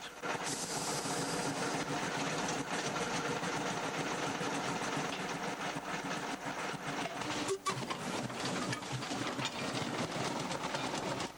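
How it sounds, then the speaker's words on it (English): 50 hp Hunslet diesel mining locomotive on a 2 ft 6 in narrow gauge demonstration line at Yafford Mill, giving a faint, steady rumble with rhythmic wheel clatter and a brief sharp clank near the end. "This little diesel makes up a train before carrying passengers along a short demonstration line."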